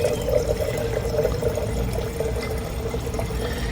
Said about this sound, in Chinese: 上面拿一个过滤器，我们接下来就要整瓶把它倒进去